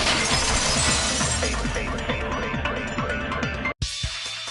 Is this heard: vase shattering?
yes